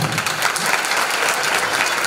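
An audience gives warm, dense applause welcoming a music teacher at a staged Samaysar drama performance, continuous loud clapping with no talk over it.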